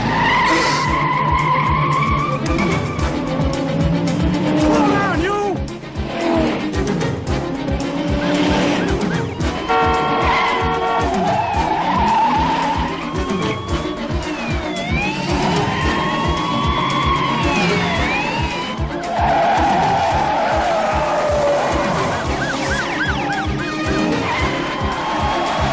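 A car with a stuck throttle speeds and skids, its engine roaring at high revs while tires squeal repeatedly in long sliding screeches, loud and continuous throughout.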